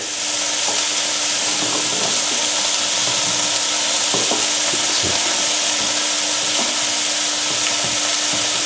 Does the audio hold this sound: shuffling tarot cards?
no